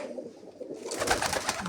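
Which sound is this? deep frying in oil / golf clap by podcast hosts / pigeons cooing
pigeons cooing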